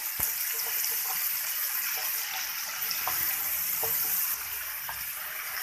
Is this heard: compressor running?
no